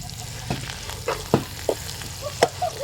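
Bitter gourd pieces fry in oil in a pan, a soft sizzle under several sharp spatula scrapes and taps spaced about half a second apart, close by.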